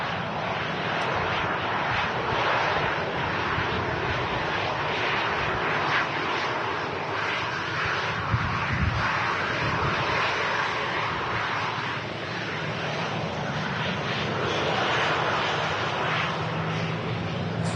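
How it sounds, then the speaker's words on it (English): An airliner on approach to Manchester Airport roars steadily overhead, a loud, continuous broadband engine rumble lasting the whole stretch with slight swells, no talking. "So we'll be here at the RVP catching all the arrivals on 2-3s, and then Matt can catch like the head-on"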